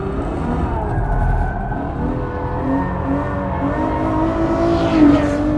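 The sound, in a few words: Ferrari engine accelerating at speed in fourth gear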